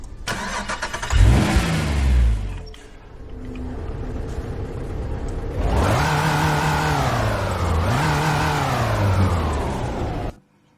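A car engine in the Nitro Nation racing game starts with a rough burst, settles briefly, then revs up in two long rising sweeps before cutting off abruptly.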